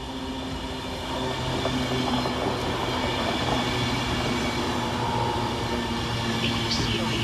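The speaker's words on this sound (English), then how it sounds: "Next pass through the station is 390-135, working 1 Alpha 48 for Avanti West Coast from Manchester Piccadilly to London Euston" An Avanti West Coast Class 390 train passes through Perry Barr station, a loud steady rumble and rail roar building after the first second and holding throughout, with faint squeals near the end.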